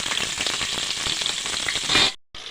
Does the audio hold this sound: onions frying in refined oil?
yes